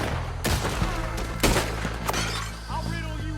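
Gunfire in Red Dead Redemption 2 during a raider shootout: several sharp, loud shots crack out at irregular intervals over game music and shouting voices.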